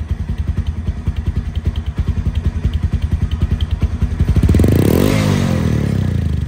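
Up close, a Bajaj Discover 135cc motorcycle idles with a steady, rapid thumping putter, then swells into a brief rev near the end before settling again.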